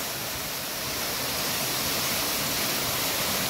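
Water trickles and splashes down into a deep stone stepwell, heard as a steady, close rushing hiss that holds constant throughout without talk.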